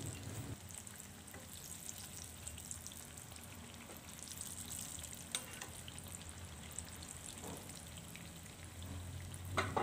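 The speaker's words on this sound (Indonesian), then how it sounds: "Lalu digoreng lagi sampai semuanya benar-benar matang dan kering." Crispy egg omelette frying in oil in a pan, with a steady crackling sizzle throughout and a few sharper pops and spatters, close and fairly quiet with no talking.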